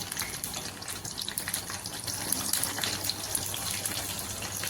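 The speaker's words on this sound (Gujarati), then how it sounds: "આપણે ડુંગળી ઉમેરી લઈશું તેલમાં" Chopped onions dropping into hot oil in a home kitchen pan give a steady, broad hiss and crackle, fairly loud and continuous throughout, with no voices.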